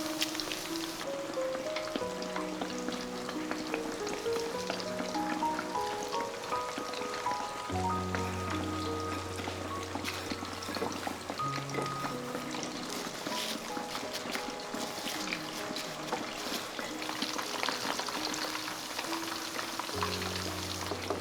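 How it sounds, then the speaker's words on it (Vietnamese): Breaded pork cutlets frying in a pan of oil over medium heat, giving a steady dense sizzle and crackle throughout, with music playing underneath. "Rồi mình cho vào chảo dầu chiên nha."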